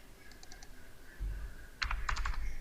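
Typing on a computer keyboard while entering text into Google Docs: a few light key taps, then a pause, then a quicker, louder cluster of close keystrokes at the end.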